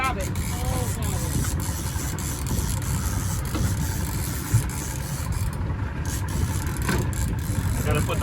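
An outboard boat motor runs steadily at low pitch while out fishing, a constant rumble under wind and splashing, with people talking over it.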